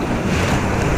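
Ocean surf surging and crashing against coastal rocks, a loud continuous roar of churning water mixed with buffeting wind noise on the microphone, with no voices.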